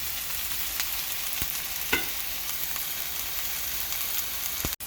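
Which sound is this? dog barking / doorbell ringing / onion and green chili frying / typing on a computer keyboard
onion and green chili frying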